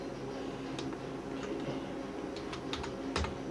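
Key clicks from a computer keyboard while entering month names into a Microsoft Excel spreadsheet, sparse and fairly quiet, with a few sharper taps near the end over a steady room hum.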